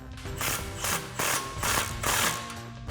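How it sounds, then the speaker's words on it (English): A ratchet tightens an exhaust clamp on the tailpipe of a 2015-2023 Mustang EcoBoost with an AFE MACH Force-XP 3-inch cat-back system, in several close, rhythmic bursts of clicking strokes. "then we'll snug up this clamp as well"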